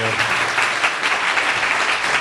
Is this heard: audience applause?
yes